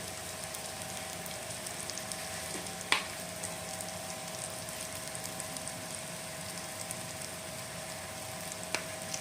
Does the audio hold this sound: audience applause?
no